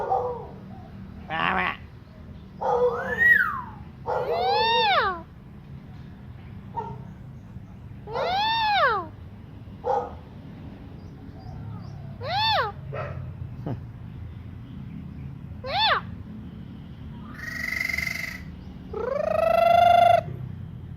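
A Thai bird gives a string of loud, clear calls and harmonic whistles, several shaped like a short dog bark, spaced every second or two over a low steady background hum.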